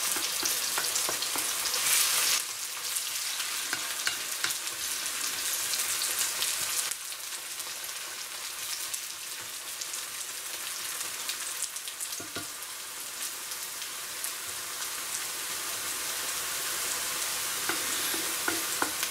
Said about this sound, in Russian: Поджариваем лучок до золотистой корочки